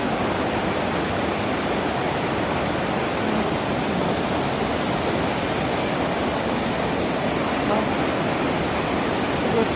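Water rushes steadily beside the Estrada da Graciosa, a historic winding road in Paraná's Serra do Mar, as a loud, continuous broadband roar that holds unchanged throughout.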